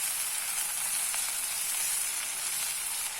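Jackfruit cooks in a pan with garam masala and chaat masala being stirred in, giving a steady, even sizzle and hiss up close, with a faint scrape of a utensil partway through.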